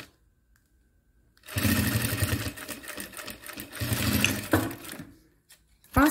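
A sewing machine stitches the first seam of a fabric panel for a 100-pen case, running in one steady, fast whir for about three seconds. It pauses briefly, then restarts in a short burst at the end.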